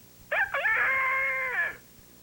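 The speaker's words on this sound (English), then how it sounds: "Fifi sounds like a rooster." A cartoon cow crows like a rooster in a single loud, rising then sustained call lasting about a second and a half, close and clear over faint background hiss.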